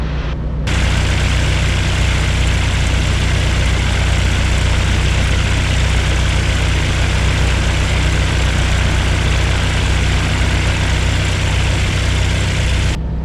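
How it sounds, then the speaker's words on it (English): The small piston engine of a Zenith Super Duty Cruzer prototype light aircraft runs steadily at a constant idle, a continuous droning hum with no breaks and no talking. "This has the same engine as my airplane, but this one sounds quieter for some reason."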